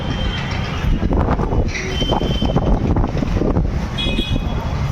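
Steady wind rushes loudly across the microphone outdoors, a continuous buffeting roar with no voices.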